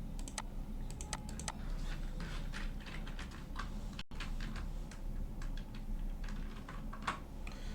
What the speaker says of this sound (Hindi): मैं सबसे पहले यहाँ पे कोई टेक्स्ट टाइप करता हूँ।